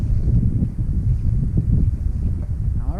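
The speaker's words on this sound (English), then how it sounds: "It's a bit windy out here" Steady wind buffeting across a frozen lake at an ice fishing spot, a continuous low rumbling gust noise with no talk.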